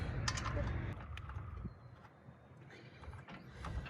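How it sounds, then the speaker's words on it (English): Bolts on a boat trailer's spare tire holder are hand tightened and waggled, giving faint metallic clinks and rattles under a low background rumble, with a voice briefly present. "What I'm doing here is I'm hand tightening, is kind of waggling these bolts around."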